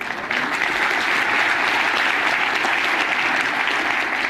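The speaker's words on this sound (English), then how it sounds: "I appreciate the clapping" A seminar audience claps in sustained, dense applause, loud and even throughout with no break.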